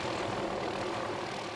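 A Honolulu Fire Department helicopter drones steadily at a distance over the Olomana hiking trail, its rotor and engine noise forming an even, continuous roar with no speech.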